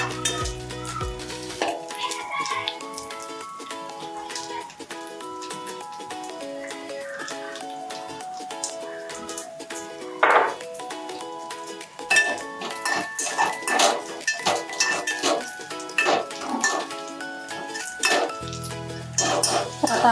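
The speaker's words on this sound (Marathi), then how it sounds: "आता आपला मसाला चांगला भाजलेला आहे, एकदम लालसर सारखा" Ground masala roasting and being stirred in a pan for Maharashtrian kadhi, with repeated scraping and clinking of a utensil against the pan, near and fairly loud, over a steady soft sizzle and a brief background hum.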